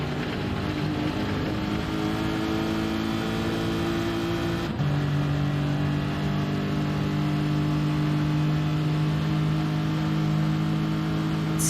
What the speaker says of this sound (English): Here we go. Second gear, third gear on the exit.